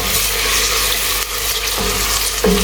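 Chopped onions frying in sunflower oil in a pan, a steady loud sizzle with a few brief stirring clatters, no voices.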